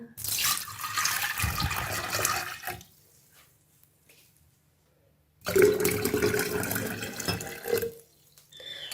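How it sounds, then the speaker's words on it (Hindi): Water from a tap runs into a jug in a home kitchen while a summer sugar sharbat is being made, with two separate bursts of steady splashing pouring split by a quiet pause. "अब मैंने एक जग ले लिया है। इसके अंदर मैं 2 गिलास पानी के ऐड करती हूँ।"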